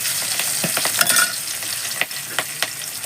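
Soya chunk curry base sizzles and fries in a pan with green chillies and spice paste while a utensil scrapes and stirs it with several distinct clinks and scrapes.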